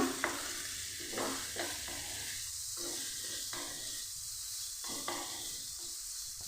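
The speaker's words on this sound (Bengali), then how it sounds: "ভালো করে মেখে নিচ্ছি" Chicken mince is kneaded by hand with a few grains of sugar and garam masala powder, giving soft, repeated squelching and sticky mixing noises in an uneven rhythm, close and quiet.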